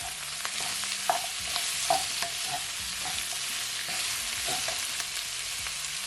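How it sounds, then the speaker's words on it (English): Pepper steak seasoned with black pepper and Chinese five spice is stirred in a hot pan: a steady sizzle runs throughout, broken by several soft scraping strokes of the spoon against the pan. "Give it a stir."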